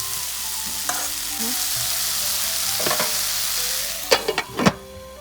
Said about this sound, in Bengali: তেল ও শুকনো লঙ্কা দিয়েছো ফোড়নে